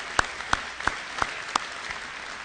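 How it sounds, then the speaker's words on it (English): At the 2013 IndyCar championship celebration, a few sharp, evenly spaced hand claps ring out close by over a quiet room murmur, recognizable as applause for Firestone. "They deserve a big round of applause"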